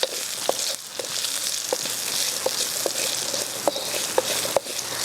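Onions sizzle steadily in a hot pan for Indian cooking, a continuous close frying hiss punctuated by several sharp pops and crackles, with no talking.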